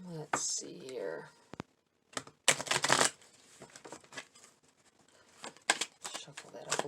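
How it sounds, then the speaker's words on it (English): Oracle cards are shuffled by hand in short papery bursts with pauses, close and fairly quiet, with a brief voice at the start. "Shuffle that up a little bit more"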